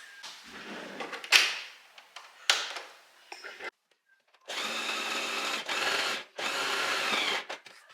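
Close mechanical whirring of a sewing machine gathering fabric and sewing it onto a dress back piece, in two sustained bursts with a short pause between, after a few clicks and shuffling handling noises.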